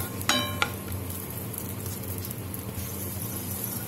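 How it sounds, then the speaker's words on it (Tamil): Raisins frying in a pan for Tamil rava kesari, a steady close sizzle of hot oil with two brief clinks near the start. "இதையும் நல்லா வறுத்துட்டோம், புஷ்ஷுன்னு வந்துடுச்சு பாருங்க."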